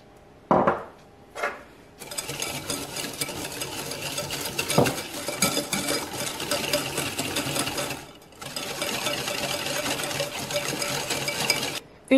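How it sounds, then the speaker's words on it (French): Sugar stirred into melted butter in a bowl, a steady rough scraping and swishing that runs on for several seconds, briefly pausing near the end, with a couple of sharp knocks at the start. "On va commencer par mélanger donc le sucre avec le beurre."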